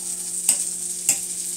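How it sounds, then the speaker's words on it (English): Butter sizzles in a new wok under a faint, steady hiss, with two distinct scraping strokes of a utensil stirring it around. "Butter in there. So just mixing all around too."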